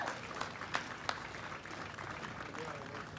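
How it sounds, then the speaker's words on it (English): Audience applause at an outdoor stage event marking the US Army's 250th birthday with a fitness competition, a steady wash of clapping with a few sharper claps standing out near the start, heard alongside some talk. "Come on, you can clap for them."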